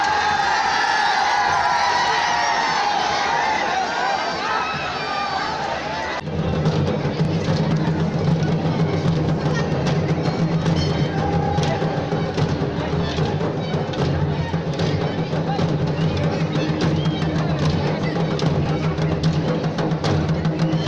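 A large crowd of thousands roars and cheers at an outdoor festival where youths climb a thorny tree, the dense noise loud and continuous throughout, with a sharp jump in level partway in.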